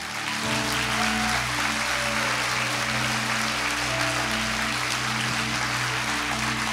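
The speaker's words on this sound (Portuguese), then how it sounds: "Você pode aplaudir Jesus?" Church congregation applauding together, a steady dense wash of clapping that lasts throughout, with sustained musical tones held underneath.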